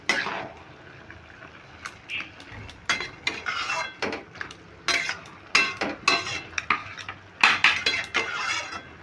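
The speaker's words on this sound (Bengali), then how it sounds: "দেখো সমস্ত কপিটা আমি মশলার সঙ্গে খুব ভালো করে মিশিয়ে নিলাম।" Cabbage is mixed with spices in a pan, heard as a close run of irregular scraping and clattering strokes of a spoon against metal, with brief pauses between bursts and no voices.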